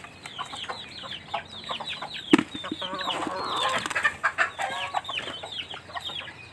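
A flock of backyard chickens clucking and chattering in a rural province setting, many overlapping calls close by, with a brief sharp knock early on.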